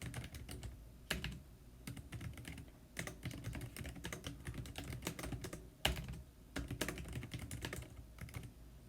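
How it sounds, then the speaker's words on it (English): Typing on a computer keyboard: irregular bursts of quick key clicks separated by brief pauses, close and fairly quiet, with no one talking. "You're going to hear me typing."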